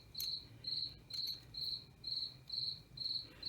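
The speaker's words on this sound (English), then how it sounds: "sorry about the crickets" Crickets chirp in a regular pulsing rhythm, about two bursts per second, fairly quiet against a calm background.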